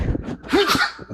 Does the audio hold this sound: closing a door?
no